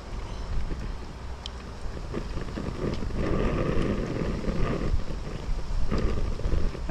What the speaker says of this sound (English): It's a bit windy, so it keeps cooling down the oil.